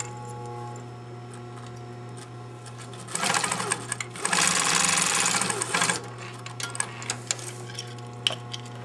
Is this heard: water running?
no